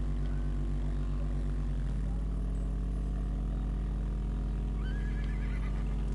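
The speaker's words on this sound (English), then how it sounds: "I heard the horsey there." A horse neighs in the battle royale video game Realm Royale, a brief whinny rising near the end over a loud, constant game soundtrack and droning background.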